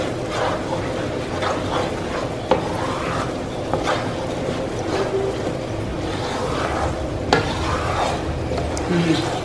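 Pecan candy cooks and is stirred in a skillet, a steady close sizzling bubble with scraping spoon strokes and a few sharper clicks against the pan's side, running throughout.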